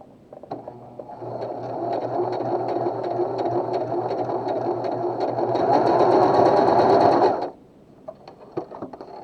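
A Pfaff Smarter 140s/160s sewing machine stitches a blind hem in one continuous run of steady motor hum and rapid needle clatter lasting about six seconds, speeding up slightly near the end before stopping, with a few small clicks afterward.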